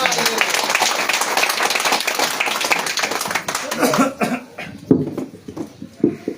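Congregation claps for God during a Hindi-Bengali church worship service, a dense burst of handclaps that thins into scattered claps with voices mixed in.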